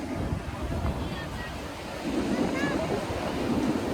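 Sea waves washing against the shore in Mumbai with a steady roar, wind buffeting the microphone, the surf swelling louder in the second half.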